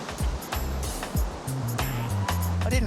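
Ocean surf breaking at Bondi Beach, a steady wash of waves rolling in close with rushing spray, over a low rumbling undertone and faint tonal hum through the middle.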